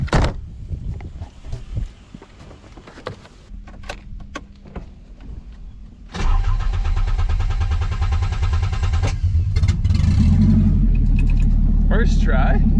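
A Nissan 300ZX with a swapped-in KA24DE four-cylinder engine starts after a few scattered clicks and cabin handling noises, then settles into a loud, steady, close rumbling idle that fills the rest of the stretch.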